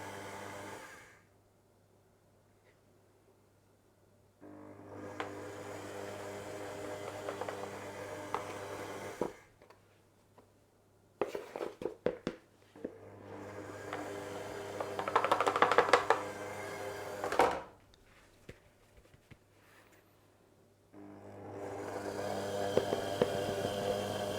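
An electric mixer beats Easter biscuit dough with butter, sugar and spice in loud whirring bursts, stopping and restarting several times, with clattering in between and brief near-silent pauses.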